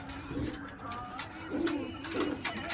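Pigeons coo in low, throaty, repeated rolls, several bursts spaced across the moment, fairly close with light background noise.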